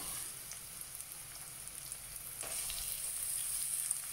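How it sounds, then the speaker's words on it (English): Onions fry in a pan for homemade hot chilli sauce, with a steady, close crackling sizzle and dense spitting pops that continue without a break and with no voices. "we're going to cook these onions down a bit"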